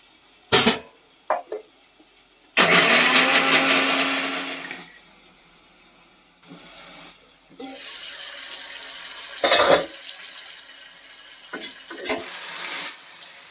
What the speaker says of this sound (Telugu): జీడిపప్పు, పచ్చిపప్పు మిక్సీ వేసుకున్నాం.